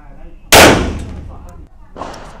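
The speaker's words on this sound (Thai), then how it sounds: "อันนี้คือยิงช้าๆ" A single sharp, loud 9 mm pistol shot from an Alien handgun at a shooting range, fired slowly, with echoing decay and someone speaking shortly after.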